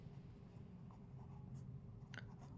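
Pen writing on paper during a 10th-class trigonometry lesson, soft and close, with steady faint scratching strokes and no talk over it.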